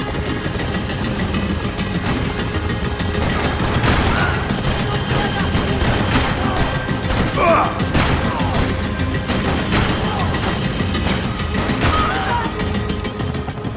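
Sustained gunfire in the video game Max Payne 3, with a dense run of sharp shots and crashing impacts over a steady rumbling background, loud and unbroken throughout.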